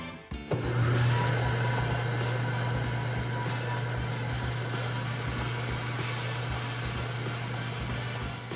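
A bandsaw cutting open a plastic coin slab whines with a steady motorized hum, and the blade grinds and rattles through the plastic continuously and close by.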